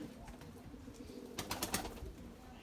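Erzurum white pigeons coo softly and low, with a few quick flutter-like rustles partway through, all faint and distant.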